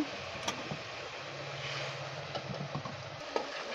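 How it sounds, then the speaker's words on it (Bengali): Turmeric and water sizzle quietly in a frying pan, with occasional sharp ticks and scrapes from stirring over a low, steady hiss, heard up close with no talking. "একটু নাড়াচাড়া করে নেব আমরা"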